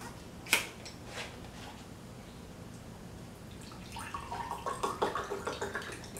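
Fiji artesian water pours into a glass, a quiet trickle with a soft splash early on, then a rhythmic series of glugging, bubbling pulses near the end.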